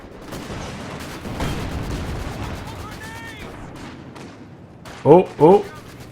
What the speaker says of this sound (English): These Vickers do a lot of damage. Got a very long burst duration.